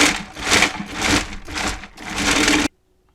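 Figs being ground in a food grinder make a loud, coarse grinding and churning noise that pulses in about five uneven surges, close by, then cuts off sharply into silence.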